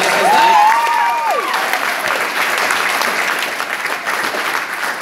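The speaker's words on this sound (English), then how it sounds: "this deserves a huge round of applause" A pageant crowd in Rotorua applauds the contestants with loud, continuous clapping, a sharp whistle rising over the opening moment before the clapping slowly eases.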